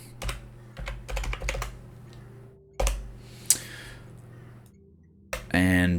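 Bursts of rapid keystrokes on a computer keyboard, several clusters of clicking separated by pauses, close and clear, with a voice talking at points.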